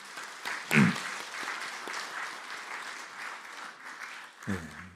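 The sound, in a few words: church congregation applause welcoming a newcomer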